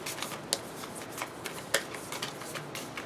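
Tarot chakra cards being shuffled by hand, a soft, steady papery riffling with a few sharper snaps, close and quiet with no talking.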